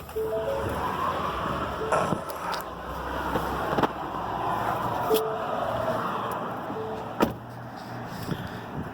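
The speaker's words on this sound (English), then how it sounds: "I'm right next to a busy road, so I apologize." Traffic on a busy road passes close by, a steady broadband rush of passing cars with occasional louder swells and sharp knocks, no talk.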